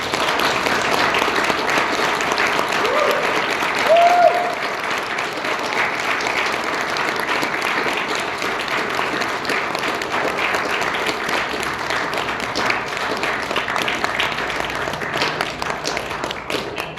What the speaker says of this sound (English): give Troop 379's newest Eagle Scout a round of applause